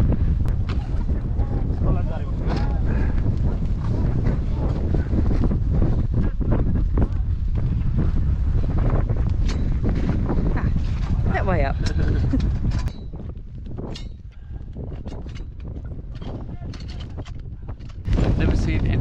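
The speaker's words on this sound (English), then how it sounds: "Ever so windy," Strong wind buffets the microphone in loud gusts at a desert camp near Asfar Lake, Al Ahsa, Saudi Arabia, with a voice talking through the roar, easing briefly before picking up again.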